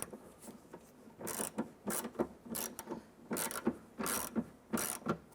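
A ratchet snugs down Jeep Grand Cherokee door handle bolts, giving a quiet, close series of quick clicking bursts in an uneven rhythm.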